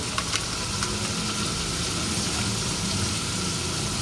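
Dried fish (tuyo) fries in a pan with a steady, dense hiss of sizzling oil throughout, a few faint pops and clicks near the start, and no talking.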